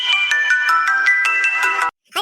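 Mobile phone ringtone playing a bright, repeating electronic melody with rhythmic beeping pulses, loud and close for about two seconds before it cuts off and a voice briefly begins.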